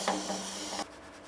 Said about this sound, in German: Und dann könnt ihr feilen.